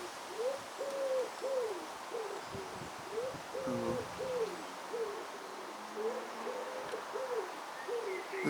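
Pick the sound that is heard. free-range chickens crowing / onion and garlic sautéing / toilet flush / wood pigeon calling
wood pigeon calling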